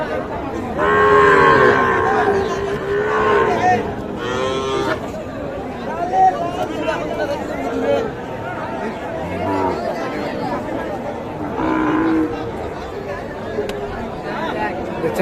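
Cattle low and moo repeatedly at a busy livestock market where heifer calves are being sold, the calls rising over constant crowd chatter and bargaining voices nearby.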